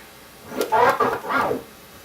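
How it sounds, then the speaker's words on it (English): A short turntable scratch phrase, a tear and three-click hybrid: a quick forward tear followed by a run of clipped backward strokes, mid-loud, with no talking. "we're gonna do the tear and 3 click hybrid"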